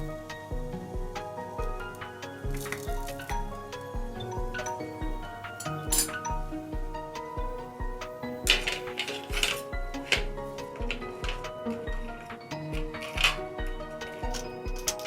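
Aluminum containers clink and clatter as kunefe is flipped between them, a long run of bright metallic taps, knocks and rattles, close and fairly loud, with music running steadily underneath.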